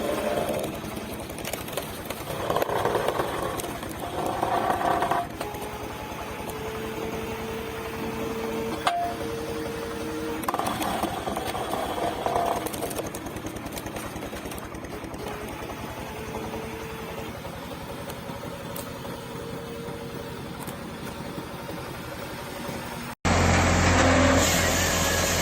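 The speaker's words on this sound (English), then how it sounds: "The woodbine log splitter hums steadily in the busy lumber yard." A hydraulic log splitter engine runs steadily and loudly throughout in a lumber yard, a continuous mechanical drone with shifting tones, ending in an abrupt change to a harsher, deeper roar.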